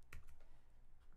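Quick typing on a computer keyboard, a short run of soft, close key clicks at low level with no speech.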